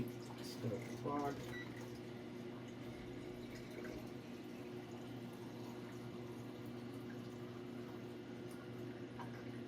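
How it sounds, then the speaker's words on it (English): Color developer for Arista E-6 film processing poured into a developing tank, a brief gurgling splash near the start, then low steady hum with faint liquid sounds, fairly quiet. "And pour it in and start the clock."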